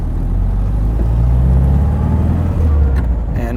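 A 1957 Porsche Speedster engine idles close by, a steady low rumble with a slight swell midway and brief crackle near the end.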